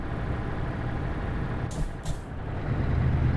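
An older Scania truck engine in a truck simulator video game, a gritty low rumble running steadily throughout, with two short hissing bursts of air in the middle.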